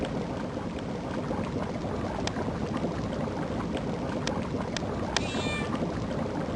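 Cats meow in a video game, a short high cry standing out near the end over a steady, noisy background.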